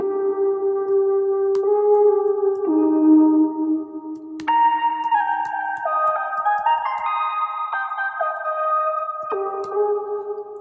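A processed synthetic tone glides through a slow melody of held notes, washed in reverb and chorus-like shimmer, with no voices.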